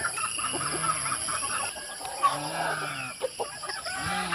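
Farm chickens cluck and call in short, scattered bursts, with a few louder nearby clucks over a steady outdoor background; ducks and geese are kept on the same farm.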